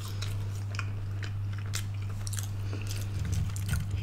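Crunchy Burger King fried chicken bitten and chewed up close, a series of sharp crackling bites followed by wetter chewing over a steady low hum, no talking.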